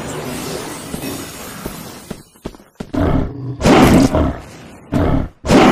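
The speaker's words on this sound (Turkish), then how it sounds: "Kurt vuruşu." A wolf character in the online shooter Wolfteam lets out an aggressive attack roar: loud, harsh roaring bursts with crashing hits, broken by brief silent gaps after a quieter lead-in.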